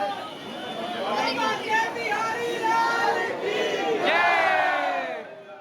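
Dense crowd inside the Banke Bihari temple in Vrindavan, a continuous roar of many voices calling out together, loud and close, swelling near the end before fading.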